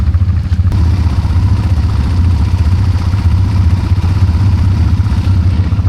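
Several motorcycles idle and rumble close by on a coastal ride near Labuan Bajo, a steady low engine chug with light clatter that keeps up throughout.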